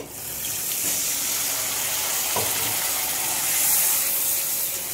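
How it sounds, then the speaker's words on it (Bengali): Water pours steadily into a pan, a continuous rushing splash with a faint hiss of steam rising near the end. "এবার একটু জল দিয়ে দেব।"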